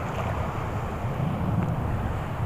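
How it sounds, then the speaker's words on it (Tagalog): Rough sea around a small fishing boat, with a steady broad wash of waves and wind buffeting the microphone, loud and continuous with no clear single breaks. "Lalaki ng alon dito, ah."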